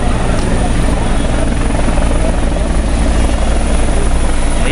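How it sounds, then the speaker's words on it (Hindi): Helicopter arriving at an outdoor event for a chief minister's visit, a loud, steady rotor thump and engine roar filling the whole stretch without letup. "ये आया उनका हेलीकॉप्टर."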